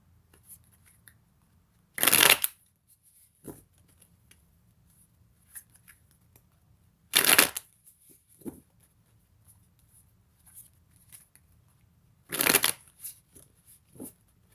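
Tarot cards are shuffled in three brisk riffling bursts, evenly spaced, with soft handling taps between them in a quiet room.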